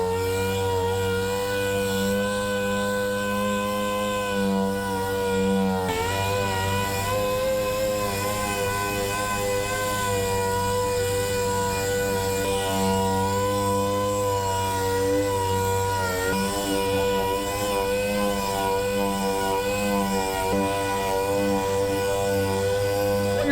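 A power sander hums steadily as it works 320 grit over faded car paint on a quarter panel, a loud, continuous close whir with slight changes in pitch.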